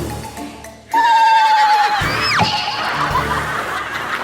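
A loud horse whinny sound effect, inserted into a Thai sitcom scene, rises sharply after a quiet opening, then falls into a trailing snicker-like call over busy background noise.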